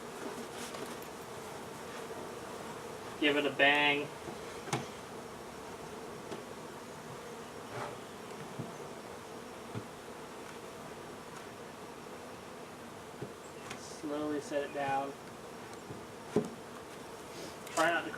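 Honeybees humming steadily around a hive being installed with a hive tool, a faint continuous drone beneath occasional close speech and gloved handling knocks.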